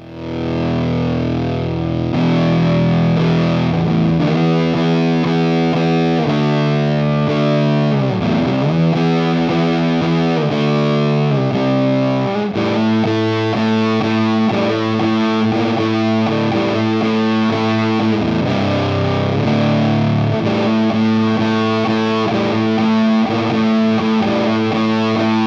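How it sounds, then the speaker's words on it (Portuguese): An electric guitar plays through a homemade mini fuzz pedal with no clean signal, giving loud, thick distorted chords and sustained notes that ring steadily with short changes between them. "Então eu só vou ter o fuzz, eu não tenho som limpo."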